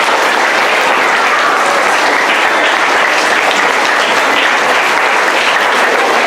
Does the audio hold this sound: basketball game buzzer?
no